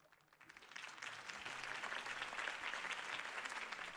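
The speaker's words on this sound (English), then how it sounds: "If only Mr. Wayne, my campaign's largest backer, could have heard that applause" Crowd applause fills a rally scene for Harvey Dent's campaign in Batman: The Telltale Series, a steady, fairly distant clapping that swells after a quiet start and holds evenly throughout.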